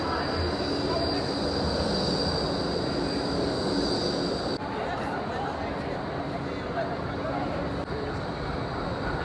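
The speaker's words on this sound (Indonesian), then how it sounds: "Ini bukan kereta teman-teman, ini namanya tram." A tram rolls along Burke Street in central Melbourne during the Christmas season, a steady loud rumble of wheels on street rails with faint squeal, a constant close roar lasting throughout, with a voice talking over it.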